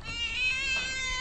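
A cat gives one drawn-out, fairly close meow, a steady whining cry lasting about a second with no talking over it.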